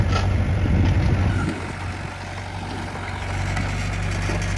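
A 5.5-ton excavator with a small Yanmar diesel engine runs under test, a loud steady low rumble with a droning hum, slightly louder at the start then settling into an even idle.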